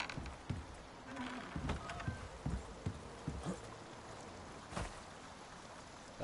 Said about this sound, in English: That horse is still over there.